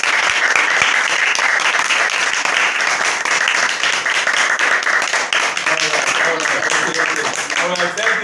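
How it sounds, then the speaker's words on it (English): Audience applause at a classroom-style event, steady loud clapping sustained throughout with crowd noise and some voices mixed in near the end. "Please, a round of applause for ourselves for participating."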